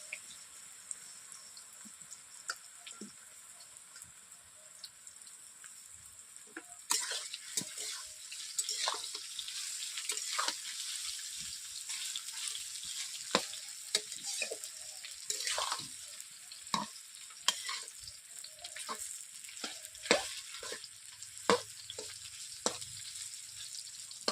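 Elephant apple (chalta) pieces fry in hot mustard oil with a steady crackling sizzle that grows louder midway, punctuated by frequent scraping and knocking of a stirring spoon in the pan.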